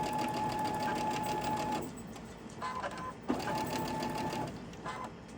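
A sewing machine chain stitches fabric in quilt-making, running in two steady bursts with a short pause between, close and alone with no talk.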